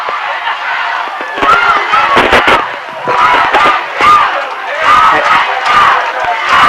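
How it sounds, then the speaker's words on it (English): A high school football crowd at a Malvern Leopards versus Lakeside game chants "Go Leopards Go" in loud, rhythmic, repeated bursts of massed voices, with sharp claps and shouts punctuating the chant. "And the Go Leopards Go chant now starting up with the crowd"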